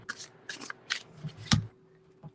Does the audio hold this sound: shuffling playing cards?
yes